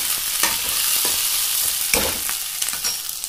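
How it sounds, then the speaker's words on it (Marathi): Capsicum frying in a pan while being stirred, with a constant close sizzle and repeated scraping strokes of the spoon, and no voices. "आपली इथे शिमला मिरची एकदम छान प्रकारे फ्राय झालेली आहे"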